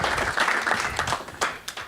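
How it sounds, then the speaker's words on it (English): An audience at an interview event gives a round of applause, many hands clapping close and uneven, with a few sharp louder claps popping out near the end. "Give her or Amy a round of applause"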